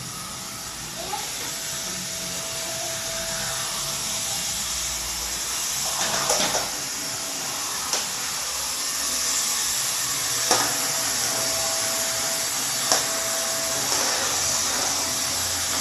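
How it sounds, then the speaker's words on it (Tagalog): A vacuum cleaner runs steadily with a loud, constant whooshing hiss and a faint tonal whine, broken by a few short sharp knocks and scrapes as it moves. "Ganyan din yung vacuum ko sa atin ha."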